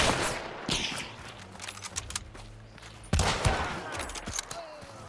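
Gunfire in the video game Hunt: Showdown, with two loud sharp shots a few seconds apart, each trailing into echoing reverb, amid scattered smaller clicks and impacts.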